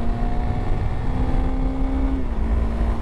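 A 2021 Honda CRF300L dual-sport motorcycle cruises on a road in fourth gear at about 50 mph and 7,500 RPM, its engine droning steadily and loud with a constant pitch and wind rush.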